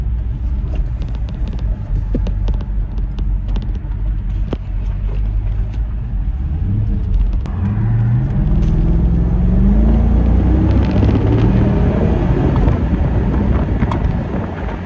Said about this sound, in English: This car has a V8 engine, 5 liter, I think.